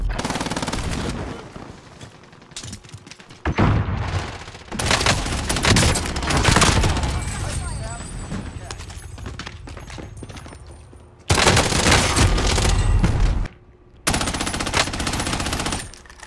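Call of Duty Warzone gunfire, loud rapid machine-gun bursts that come and go in several long stretches, broken by brief quiet gaps, with some game voice faintly underneath.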